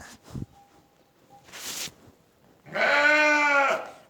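Lambs on a farm raising breeding ewes bleat in one loud, sustained, harmonic-rich call near the end, after some faint scuffing and a brief rustle, with no talk.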